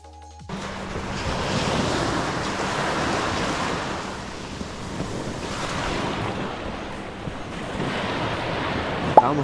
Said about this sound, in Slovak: more je tu naozaj krásne a čisté, dlhé pláže